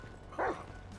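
A single short bark from Chop, the dog in the video game GTA V, sounds clearly at moderate distance over a low, steady background hum.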